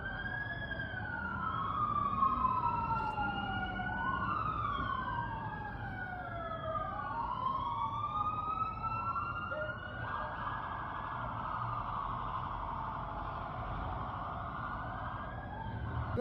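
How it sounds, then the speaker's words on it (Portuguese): Several police and emergency vehicle sirens wail at night on the streets of Santiago, Chile, their rising and falling tones overlapping from a moderate distance over a low rumble of traffic. "Era sirene, era muita viatura."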